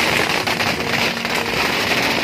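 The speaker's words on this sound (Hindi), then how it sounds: "पटाखे फोड़े जा रहे हैं" Firecrackers burst at a village Bengali wedding in a dense, continuous crackling rattle, loud and close, with rapid pops running together through the whole stretch and no pause.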